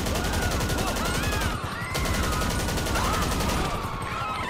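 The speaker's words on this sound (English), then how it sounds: "Right back to shoot us." Gunfire in GTA Online, a steady rapid stream of automatic shots at moderate loudness running the whole time with a brief dip midway.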